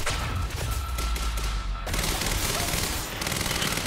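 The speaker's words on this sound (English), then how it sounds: "I'm shooting everything but them." Gunfire in the video game Quantum Break: dense, continuous automatic shooting loud throughout, a chaotic fusillade of rapid shots with heavy low-end thumps and booming impacts, no talking over it.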